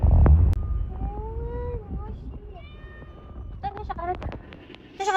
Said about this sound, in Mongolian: Тэгээд ард манай муур маань вэ